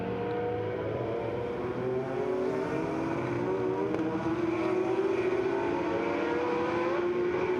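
Vintage race cars climb the hill toward turn six at a historic motorsports reunion race, engines droning steadily with rising pitch as several pass in a continuous loud stream, no voices over them.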